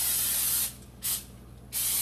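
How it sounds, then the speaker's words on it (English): Cooking spray is sprayed onto a hot grill pan, coating both sides in three close, loud hissing bursts: a long first blast, a brief second, then a third. "we're going to take our spray and coat the pan, both sides"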